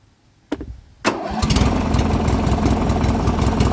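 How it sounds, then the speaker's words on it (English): A lawn and garden tractor engine cranks and catches, then runs steadily with the PTO engaged, a loud, even idle with a regular low pulse and no talk. "The engine stayed running."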